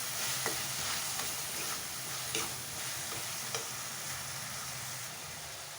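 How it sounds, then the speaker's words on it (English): Green coriander and garlic fry in a pan with a steady bright sizzle, broken by a few soft ticks as a spoon stirs and taps the pan. "Fry this very well till the raw smell goes."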